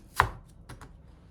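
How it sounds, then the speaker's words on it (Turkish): A knife strikes a cutting board once sharply, followed by a couple of lighter chops through potatoes, close and crisp. "Şimdi ben 3 ya da 4 tane patatesimi bu şekilde doğrayacağım."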